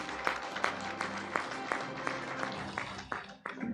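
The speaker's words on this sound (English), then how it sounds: "A round of applause, please." Applause from a conference audience at a climate justice conference, a brief burst of scattered, moderately loud hand clapping that thins toward the end.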